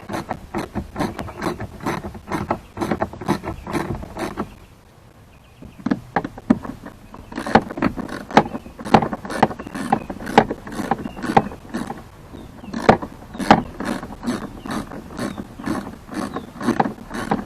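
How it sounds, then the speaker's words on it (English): Bolts come loose on the cabin air filter panel of a Ford F-150, a rapid run of sharp ratcheting clicks in bursts with a short pause, close and moderately loud, no voices. "So there's 2 bolts right there. Loosen those guys up."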